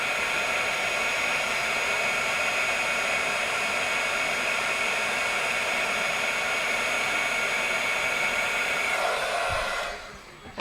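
A heat tool blows steadily while setting embossing powder on a crafting panel, giving a loud, continuous fan-and-air whoosh that holds level for about ten seconds before cutting off abruptly at the end, with no voice.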